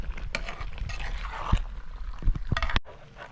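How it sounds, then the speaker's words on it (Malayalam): Rabbit roast being sautéed in a pan, with a steady stirring and scraping of a spoon against the pan over a soft sizzle, a few sharper clinks near the end, close and moderately loud. "ഇനി ഇതൊന്ന് വഴറ്റിയെടുത്താൽ മതി ഇപ്പം റെഡിയാവും"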